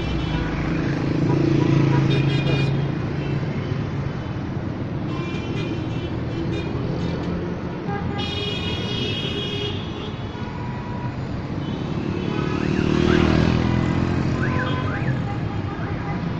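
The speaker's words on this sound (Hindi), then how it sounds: "गाड़ियों की रश से जो शोर बन रहा है वो भी आप सुन सकते हैं।" Dense road traffic streams past malls near an underpass on Arbab Road in Peshawar's University Town: a continuous, loud roar of cars and motorbikes that swells around the start and again near the end.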